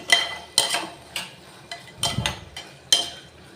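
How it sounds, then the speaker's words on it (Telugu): Rice and vegetables with salt are stirred in a pan on the stove, a few scraping and clinking strokes of a spoon at an uneven pace, close and fairly quiet, with no talking. "ఒకసారి కలిపేసుకుందాం"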